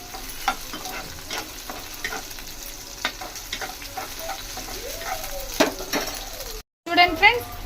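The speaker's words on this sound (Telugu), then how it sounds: "లైట్ బ్రౌన్ కలర్ వచ్చేదాకా ఫ్రై చేసుకోవాలి ఫ్రెండ్స్." Something fries in a pan with green chillies until light brown, for a hotel-style tomato sherva, crackling and sizzling steadily up close with occasional stirring scrapes and clinks of utensil on pan.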